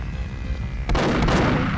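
Gunfire in the video game Perfect Dark on Xbox One, a sharp burst of shots breaking in after a quieter stretch and carrying on steadily to the end.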